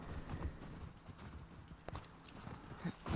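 Quiet, irregular hoof clip-clops of a walking horse in The Last of Us Part II, soft and close, with a faint steady background hum.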